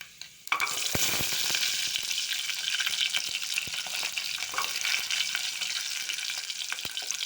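Fenugreek, shallots and garlic sautéing in a pan, starting with a sudden loud hiss as they hit the hot oil, then a steady bright sizzle with occasional stirring knocks, close up.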